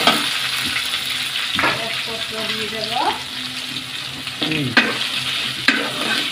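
Chopped ginger and bay leaf fry in hot oil for an aloo potol dum curry, a loud continuous sizzle broken by several stirring scrapes, with a brief spoken remark partway through.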